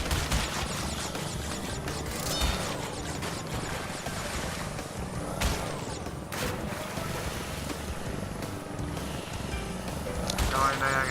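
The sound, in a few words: jet ski riding in Crash Bandicoot N. Sane Trilogy video game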